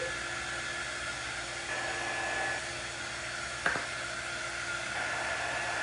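A hair dryer blows steadily on a bow, a constant loud whooshing hum with slight shifts in pitch and a brief knock partway through, no talking.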